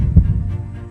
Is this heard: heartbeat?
yes